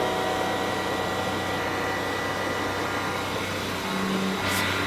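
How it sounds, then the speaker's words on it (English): McLaren F1 supercar heard from inside while driving: a steady, loud engine drone mixed with road and wind roar, holding constant throughout. "to listen to all the noises of the car."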